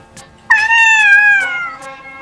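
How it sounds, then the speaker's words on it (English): A domestic cat meows loudly and close up, one long drawn-out meow that glides slightly downward and fades, set against near-silence. "This cat waits on his owner's bed every day for her to wake up."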